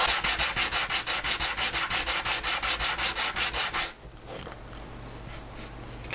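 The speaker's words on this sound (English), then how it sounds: "But sometimes used sandpaper works better for stuff like this." Used sandpaper is rubbed by hand over a hard plastic-like material made from napkins and glue, giving about eighteen quick, even back-and-forth rasping strokes close up, then a softer, quieter scuffing.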